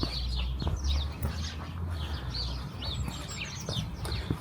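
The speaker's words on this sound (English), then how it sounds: "the birds are just very loud" Birds call loudly on a narrow village street in the Netherlands, with rapid repeated chirps and clucking notes over steady low traffic and street hum.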